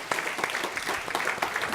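An audience at a business talk applauds as a speaker comes up, a short stretch of steady mixed clapping from many hands at moderate volume with no talk.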